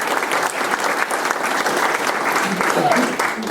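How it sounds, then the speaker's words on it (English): Sustained audience applause at a United Way campaign kickoff event, dense continuous clapping from a large crowd, loud and even throughout with no pauses. "you should give yourself a round of applause."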